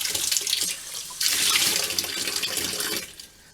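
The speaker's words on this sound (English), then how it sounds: "I'm going to turn on the water" Water runs from a tap while a Vevor 8 kW tankless water heater is tested, a broad steady hiss that starts, surges louder after a second, holds, then drops off near the end.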